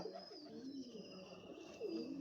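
A young pigeon coos softly in a few low, rolling murmurs, close by and quiet.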